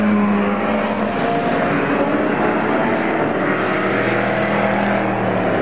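Historic saloon race cars, including an Austin A40, lapping Brands Hatch GP circuit: a steady, loud engine drone that holds throughout without a break.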